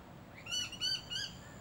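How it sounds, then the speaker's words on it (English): A bird gives three harsh, squawking alarm calls at a scrub turkey in quick succession, moderately close against a quiet background. "that alarm call is for the scrub turkey, not for me"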